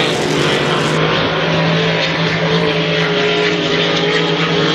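A vintage Lauterbach racing boat engine roars loud and steady at a vintage hydroplane race heat in Valleyfield, a dense continuous drone with a sustained tonal whine that never lets up.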